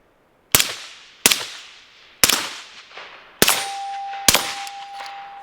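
KelTec P50 pistol fired at an outdoor range: five sharp, loud reports spaced about a second apart, each ending in a ringing decay, with a faint metallic tone lingering after the fourth shot.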